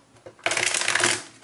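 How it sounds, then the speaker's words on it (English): A deck of cards is riffle-shuffled for a tarot-style love reading, a short quick burst of fluttering, ripping card flicks after a soft tap, close and fairly loud with no talk. "One more shuffle here"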